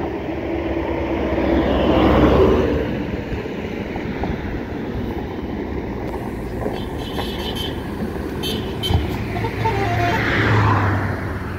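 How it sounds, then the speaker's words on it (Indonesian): An ANS intercity bus pulls out of the Palapa restaurant car park bound for Jakarta, its engine rumbling steadily at moderate distance, swelling and fading as other traffic passes. "Dan satu unit lagi ANS yang menuju Rantau juga bersiap-siap meninggalkan parkir rumah makan Palapa menuju Jakarta"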